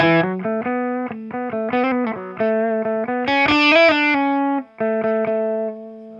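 An electric guitar played through a compact mini amp head, a fast melodic run of distorted single notes with chorus-like shimmer, played alone and up close.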